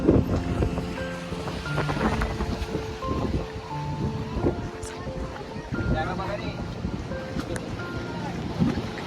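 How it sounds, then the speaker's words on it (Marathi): Wind and surf at Ganapatipule beach in Ratnagiri, a continuous blustery rush under frequent voices talking and calling nearby. "अरे वारे अरे वारे बीच आहे रे भावा"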